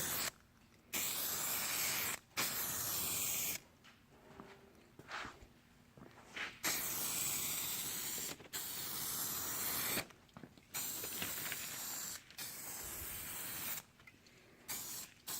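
A spray gun paints a Buick front bumper in repeated hissing bursts of one to two seconds, separated by short quiet gaps, at close range.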